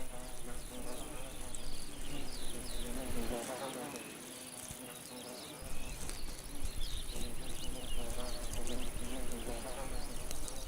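Hoverflies buzz steadily while feeding on alpine flowers, a dense, continuous insect drone filling the whole stretch at close range, with a brief softer dip midway.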